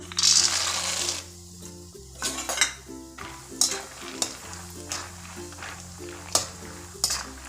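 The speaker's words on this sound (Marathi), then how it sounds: "शेंगदाणे एकदम खरपूस तळून घ्यायचे" Peanuts fry in a wok of hot oil, sizzling steadily while a utensil stirs and scrapes against the metal pan in irregular clinks and knocks.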